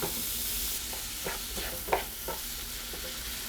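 Ground beef sizzles and fries in a pan for a beef burrito filling, a steady broadband hiss with a few scraping stirs from a spatula, close and fairly quiet, no talking.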